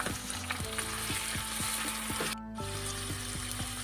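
Four hundred grams of ground beef sizzle loudly in a pan with sautéed onion and garlic. A dense, steady frying hiss is heard close up, with a few stirring scrapes and a brief dip in the middle.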